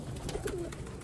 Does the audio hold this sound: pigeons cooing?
yes